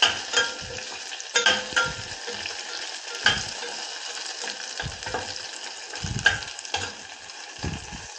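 Ingredients fry in a pan while being stirred, a steady sizzle broken by repeated scraping strokes of a spatula, close and fairly loud with no talk.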